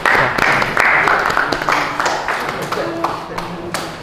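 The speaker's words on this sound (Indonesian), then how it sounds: "Beri tepuk tangan." A class applauding, brief scattered clapping mixed with voices that fades over a few seconds.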